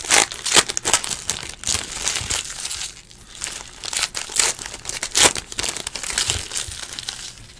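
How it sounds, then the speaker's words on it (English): Foil wrappers of 2018 Donruss baseball card packs crinkle and tear as they are ripped open, producing loud, close, continuous crackling with sharp tearing bursts. "Rip packs."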